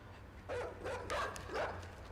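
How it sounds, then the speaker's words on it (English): A dog in the side-scrolling video game Inside gives three short barks and yips in quick succession, fairly close and loud over a quiet low background hum. "I don't like how close this dog gets."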